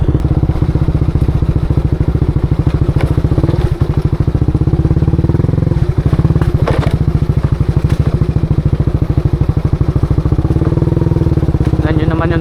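A motorcycle rides over a rough trail, its engine a loud, steady, close chugging drone with clattering and thumps from the uneven ground throughout.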